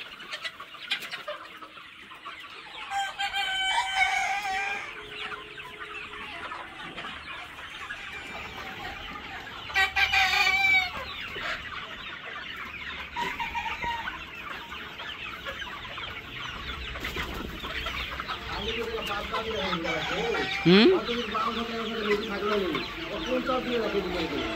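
Tiger chickens and roosters on a farm cluck and crow throughout, with several loud crows and dense clucking from the flock, while people talk intermittently in the background.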